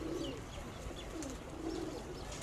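A Teddy pigeon with white eyes coos softly nearby, a few low, rolling coos repeating over a faint background hum.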